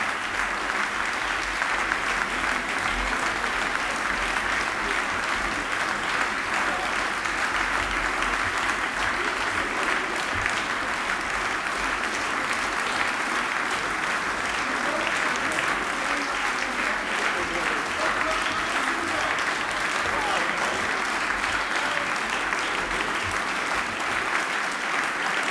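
A hall audience gives sustained, even applause as award participants come onto the stage at the BigBrotherAwards 2014 ceremony, dense clapping that holds steady for the full length without letting up.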